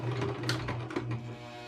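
A sewing machine runs a short back-stitch on curtain fabric, a steady motor hum with quick, rhythmic needle chatter, close and moderately quiet.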